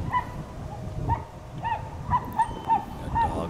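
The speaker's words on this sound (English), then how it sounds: "Got dogs barking" Dogs barking at a distance, around eight sharp yips spaced irregularly over steady outdoor wind and background noise at a golf course in Veterans Park, Hancock.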